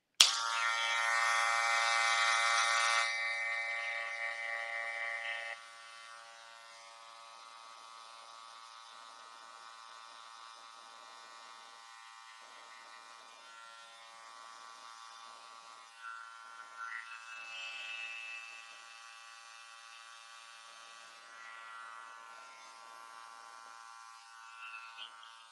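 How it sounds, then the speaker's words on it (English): Hair clippers buzz with a steady, close electric hum while cutting a man's hair along the natural hairline. The hum starts loud and bright, then settles into a quieter tone with slight shifts as the clipper moves. "Closing the clipper all the way, moving about half a finger length above the natural hairline."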